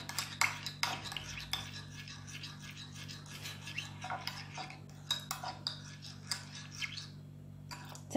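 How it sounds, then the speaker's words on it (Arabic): A spoon stirs and scrapes a small mixture of lemon juice and water in a bowl, producing quiet, irregular clinks and scrapes over a faint steady hum. "نحركوا هاد المكونات، نخلطوهم"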